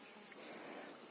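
Swarm of mosquitoes at dusk over grass, a continuous high thin whine of many insects hovering close by, steady and fairly quiet throughout with no talking.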